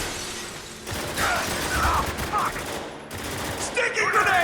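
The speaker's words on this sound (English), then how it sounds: "Laying cover fire." Gunfire in the shooter Spec Ops: The Line, several loud bursts of rapid shots with sharp cracks and clattering debris, spread over a few seconds of close combat noise.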